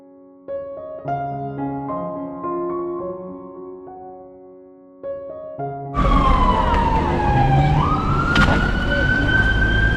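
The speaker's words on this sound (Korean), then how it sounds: "지금 저 뒤에 구급차가 오니까" Soft musical tones play first, then a loud ambulance siren bursts in nearby on a street in Prague, its wail sweeping down and up over heavy street noise.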